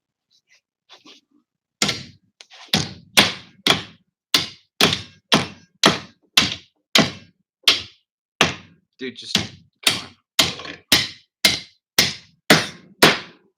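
A hammer striking a prop clamped in a vise: about seventeen sharp, loud, evenly spaced thwacks close up, after a few quiet taps and a brief spoken remark.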